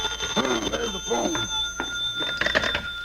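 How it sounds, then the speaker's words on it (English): A telephone bell rings steadily in a 1950s radio comedy, its shrill tone running through the clip while a voice talks over it. "there's the phone."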